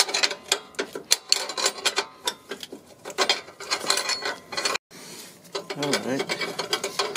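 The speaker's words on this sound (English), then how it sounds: "So I'm using this 14 millimeter wrench and Allen wrench, this one." Ratcheting clicks from a 14 mm wrench loosening a bolt on a 2002 Honda Civic, rapid repeated ticks in bursts, close up, with a brief spoken word.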